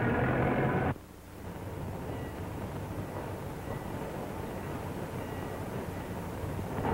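A train runs on rails in a 1938 crime film, a steady low rumble and rolling clatter held at moderate level after a louder burst at the start, with no voices.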